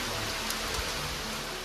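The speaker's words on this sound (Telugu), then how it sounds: "ఎంత హెవీ రైన్ వస్తుంది చూసారు కదా" Heavy rain pouring in Lankamala forest, a dense, even hiss of water striking leaves and ground, close and continuous with a few sharper drop hits.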